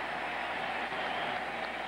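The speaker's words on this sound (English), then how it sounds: "And the Cubs fans can cheer" Cubs fans in a ballpark crowd at a 1999 Cubs–White Sox game, a steady broad wash of cheering and crowd roar that stays loud and even throughout with no clear voices standing out.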